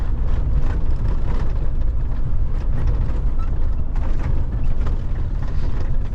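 A truck hauling lime flour drives along a road toward its loading point, giving a constant loud low engine and road rumble with wind noise that stays steady throughout.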